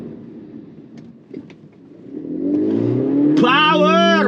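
A Volkswagen Virtus Exclusive accelerating hard, its engine note climbing steadily and swelling into a loud, rising rev, with someone talking over it.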